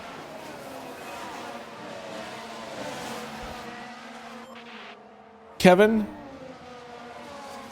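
Race cars in the F1 Manager 2023 video game drone steadily in the background with layered engine tones under a talking voice, then a sharp, brief burst of engine revving near the end.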